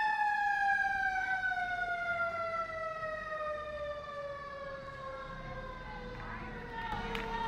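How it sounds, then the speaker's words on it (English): A loud warning siren at a baseball playoff game wails with a long, slowly falling tone, steady and continuous over faint background noise. "That sounds like the warning siren here."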